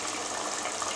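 Steady rushing splash of one cup of water being poured into a cooking pot for fish head curry, continuous and close, with no talking.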